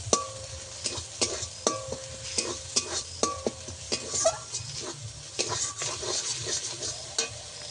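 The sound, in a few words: sautéing spice paste with ground coriander in a pan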